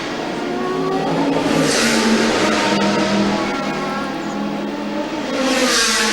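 Endurance race cars at the Le Mans 1000 km race roar past in a continuous, loud engine drone, with the pitch swelling as cars pass close, behind a lead car setting the pace, and no talking.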